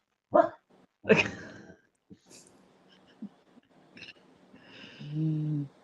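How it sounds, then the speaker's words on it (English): A dog barks twice sharply up close, followed by scattered snorts and small noises and a whiny, whimpering tone at the end, with no talking over it. "this dog is actually making it entertaining"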